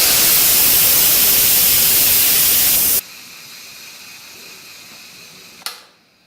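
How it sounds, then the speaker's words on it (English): Instant Pot IP DUO electric pressure cooker venting steam on quick release, a loud steady hiss that cuts off abruptly halfway, leaving a faint hum, then one sharp click near the end. "The second way is the quick release, and that means you just turn the steam release handle to the venting position."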